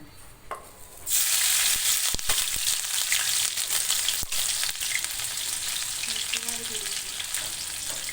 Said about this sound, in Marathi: आता ही मिरची कांदा टाकतात बघा